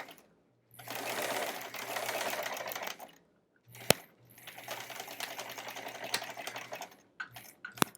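A sewing machine stitches a foundation paper pieced quilt block in two steady runs of a few seconds each, with a steady low hum and brief pauses, a short burst and a click between, and no talk.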